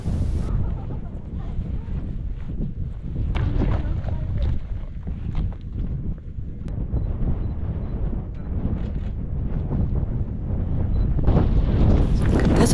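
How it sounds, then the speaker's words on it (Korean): Strong mountain wind in the Dolomites buffets the microphone in loud, continuous low rumbling gusts that swell toward the end. "바람이 엄청나게 불고 있습니다"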